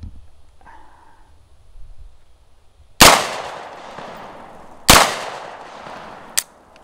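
An HK SP5K pistol in 9mm Parabellum fires three sharp, loud shots at uneven intervals, each leaving a short echoing tail, with quiet stretches between them.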